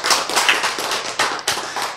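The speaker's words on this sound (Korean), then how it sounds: "야, 이거 박수 한번 보내주세요" A lecture audience claps in scattered, uneven bursts of a few hands, sharp close slaps with brief gaps rather than a full ovation.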